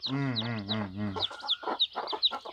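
Siruvidai native country chickens at a poultry farm in Namakkal, with a drawn-out vocal call followed by a run of short clucks and chatter from several nearby birds.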